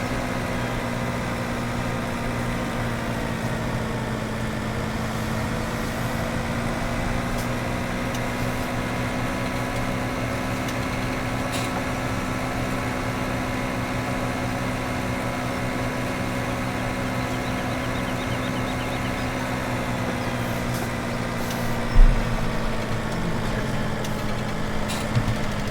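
Tractor engine idling and running in Farming Simulator 17, a steady low diesel hum with a constant tonal drone throughout, loud and close, with a short knock near the end and no talk.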